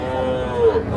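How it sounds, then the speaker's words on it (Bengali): A young Sahiwal bull calf moos loudly and close at a busy cattle market in Ambari, with market chatter in the background. "এগুলো শাহিওয়াল জাতের ষাঁড় বাচ্চা।"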